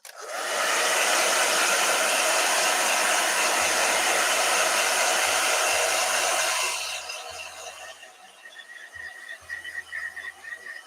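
A hair dryer blows with a loud, steady rushing whoosh for several seconds, then shuts off, leaving quieter background noise and faint hums.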